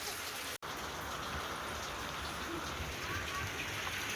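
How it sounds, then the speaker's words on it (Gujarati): Steady night rain falls outside a home in a dense, even hiss of drops on surfaces, with faint voices under the constant downpour. "બહાર તો વરસાદ ચાલુ થઈ ગયો"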